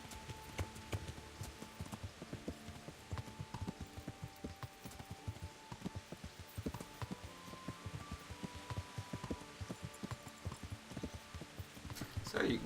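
Horse hooves clip-clop at a steady walking rhythm on a road in Kingdom Come: Deliverance, repeated throughout at moderate level, with faint game ambience behind.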